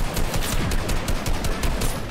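Rapid automatic gunfire in Fortnite Season 7, a dense, continuous rattle of shots filling the whole stretch at steady loudness with no talk.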